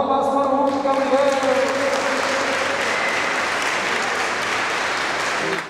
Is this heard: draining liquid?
no